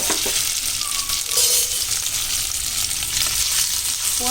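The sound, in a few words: cut potatoes frying and stirred in oil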